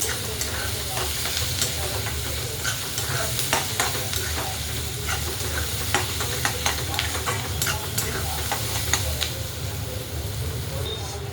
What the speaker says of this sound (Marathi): छान असं तळतंय आपली मिरची आणि कांदा